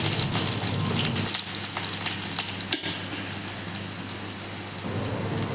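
Mustard seeds and garlic crackle and sizzle in hot oil at the start of a bitter gourd thokku, a steady dense frying hiss close by with scattered pops and no speech.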